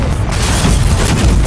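A Confringo fire spell explodes in Hogwarts Legacy, a loud, dense roar of booming noise that rumbles without a break from start to end, with no clear pauses.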